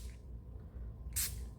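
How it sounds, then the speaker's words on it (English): Distress Oxide spray stain misted onto polymer clay in a craft setting, two short spritzes, a faint one at the start and a brighter, louder burst near the end, with quiet room sound between. "I've got some Distress Oxides and some spray stains, and I am just going to go to town"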